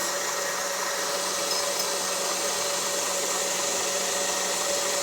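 An electric mixer whips cream with a tablespoon of added butter, giving a steady, even motor whir that runs unbroken and fairly loud from start to finish.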